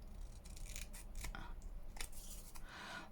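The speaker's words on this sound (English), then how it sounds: "Just trim this one down." Scissors snipping and trimming paper ephemera during craft decorating, a run of short crisp cuts and rustles close by, steady and unaccompanied by talk.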